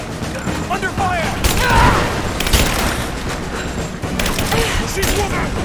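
Gunfire in Rise of the Tomb Raider, several loud booming shots and bursts spread across a few seconds amid rumbling action noise, with voices shouting over it.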